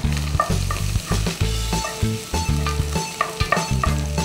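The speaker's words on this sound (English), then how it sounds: "I'm just going to add the remaining half a bulb of garlic to the pan, along with a little bit of sibuyas and some luya or ginger" Garlic, onion and ginger sizzle in oil in a pan while being stirred, with loud, close frying hiss and repeated scraping, clattering stir strokes in an uneven rhythm, no voices.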